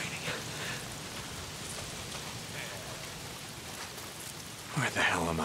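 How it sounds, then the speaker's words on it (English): Steady rain hisses in Days Gone, a continuous wash of drops at moderate level with a louder voice-like burst near the end. "Why is it always raining?"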